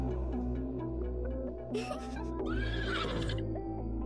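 A horse neighs in the spooky roguelike deckbuilder game The Spirit Lift, a loud, shrill whinny rising over steady game music, with a brief clop and rustle before it.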